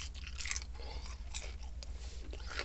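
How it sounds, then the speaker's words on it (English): Crisp battered haddock and chips from a Whitby fish and chip shop being bitten and chewed up close, a steady run of soft crunches and mouth sounds with no talking. "And the chips are done beautifully. Absolutely beautiful with that crunch."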